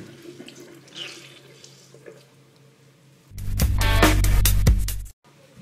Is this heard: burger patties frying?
no